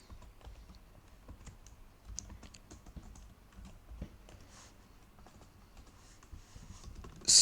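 Typing Python code on a computer keyboard: soft, close, irregular key clicks tap along steadily, with a louder clack at the very end.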